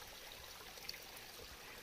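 Water running from pipes fed by a mountain spring in Kinnaur, a faint, steady trickling stream with no voices.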